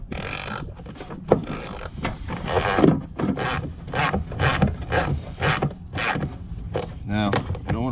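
Slow, repeated rubbing and rasping as a nut is turned by hand onto a threaded mount for kayak lights, with steady close strokes in a regular rhythm, a brief metallic ratcheting near the end, and no talking.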